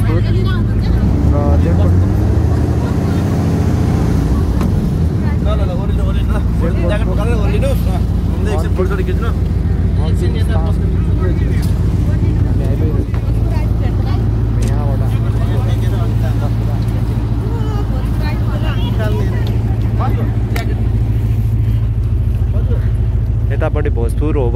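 A motorboat on the Saptakoshi river in Nepal, running between Chatara and Simle, drones with a steady, loud low engine rumble that never lets up while people talk over it.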